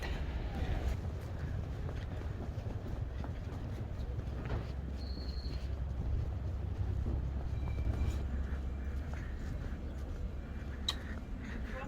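Train at Tirano station: a low, continuous rumble of rail cars fills the scene, steady and moderately close, with faint voices and scattered station noises mixed in.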